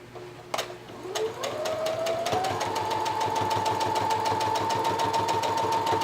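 A sewing machine stitches a simple blanket, starting with a couple of clicks, then settling into a steady, fast mechanical whir with a rhythmic needle tapping, close and moderately loud with no talking.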